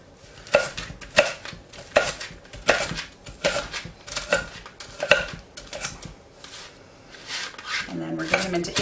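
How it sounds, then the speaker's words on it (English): A knife chopping onions into small pieces on a cutting board, sharp evenly spaced thuds about every half second, close and fairly loud, with a quick flurry of softer cuts near the end. "I'm just going to make small cuts along the outer edge."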